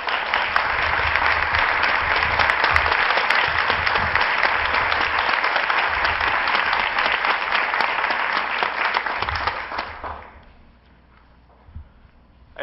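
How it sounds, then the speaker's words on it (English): A school board meeting audience applauds students and their parents with loud, sustained clapping for about ten seconds before it drops off to a quiet room. "let's give them all another round of applause"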